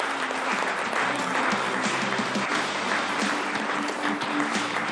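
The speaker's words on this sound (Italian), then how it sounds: "facciamo un bel applauso a Massimiliano" An audience applauding on an Italian televised sports programme, a dense, steady round of clapping lasting about five seconds at even loudness, with no voices standing out.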